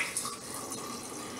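Warm water is poured into a sourdough starter, a brief, soft, steady trickle and splash heard close by and alone.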